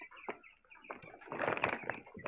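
Young 45-day-old chickens in their coop clucking and chirping together, a busy, close cluster of bird calls that swells toward the middle, with some rustling and fluttering.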